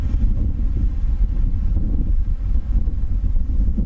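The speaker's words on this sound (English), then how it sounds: "There is a little bit of wind here" Outdoor wind buffeting the microphone, a steady low rumbling roar with gusty fluctuations throughout and no other clear sounds.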